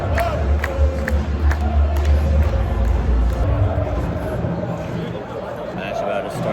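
A small but lively crowd of sports fans gathers before a match, a steady roar of voices and shouts that rises and holds, with some nearby talk under the din.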